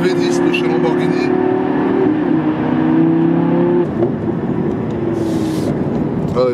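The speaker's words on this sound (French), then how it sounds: "Là le petit V10 de chez Lamborghini." Lamborghini V10 engine from inside the car, a steady loud drone with revving tones that rise and shift, sustained throughout with a brief change near the end.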